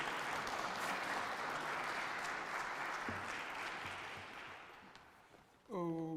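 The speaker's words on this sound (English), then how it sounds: "Can we give a round of applause?" Sustained applause from a conference audience, a steady dense wash of clapping that slowly fades, with a voice speaking briefly at the end.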